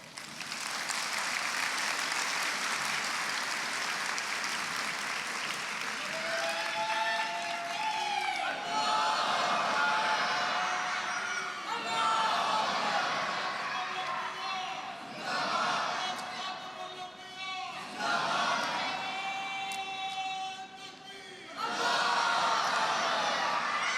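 A large convention audience at Jalsa Salana USA 2024 applauds and cheers for a long stretch, with shouts and whoops rising over the steady clapping in waves.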